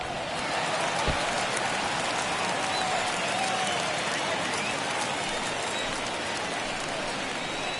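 Rain falling during a baseball game in a video game, a steady dense hiss of rainfall throughout, with a soft background crowd.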